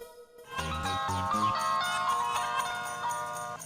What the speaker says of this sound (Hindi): मैं सोडी को फोन लगाता हूँ।